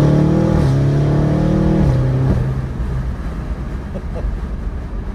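Close, loud revving from an 840 hp Audi RS7, the held engine note stepping between pitches before falling away at about two seconds into a low, rough burbling rumble.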